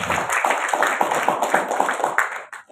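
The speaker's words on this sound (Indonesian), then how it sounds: "Tepuk tangan asesor." A hall audience claps for the assessors at an Indonesian event, a dense patter of hand claps that holds steady for a few seconds and then trails off, with no voice over it.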